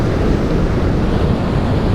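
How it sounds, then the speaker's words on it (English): Ocean waves break at Heartland Quay in a continuous heavy, loud roar of surf mixed with gusting wind buffeting the microphone, close and dense with no talking. "some of those waves out there look higher than where I am"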